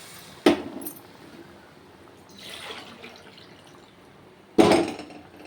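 Two separate glassfuls of water are tipped into a pot of masala rice, each a short splashing pour that quickly fades, with a faint trickle between them in a quiet room.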